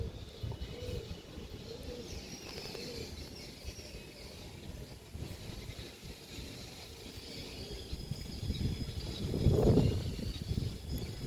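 Old-bloodline pigeons, a male and a female, coo softly and intermittently against a dull background murmur, with a fuller low coo swelling near the end.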